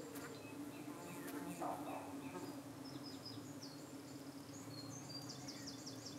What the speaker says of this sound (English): See, there's one bee out on its own being attacked by flies.